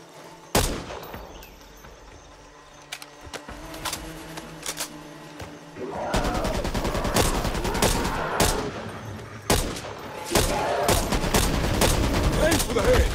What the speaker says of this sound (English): Machine gun here!